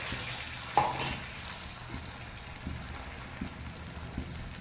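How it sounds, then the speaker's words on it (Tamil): Radish and egg omelette batter poured into hot oil on a flat dosa pan, giving a soft steady sizzle with a brief splash at the start and faint crackles after, heard alone and fairly quiet. "இப்போ எண்ணெய் சூடாயிருச்சு அந்த ஆம்லேட்டுக்கு தேவையானதை ஊற்றிக்கலாம்"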